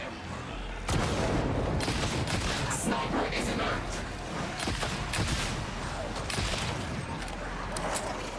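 Gunfire in Warhammer 40K Darktide amid a busy combat soundscape, repeated sharp cracks and booms scattered across a dense, loud background of battle noise and voices.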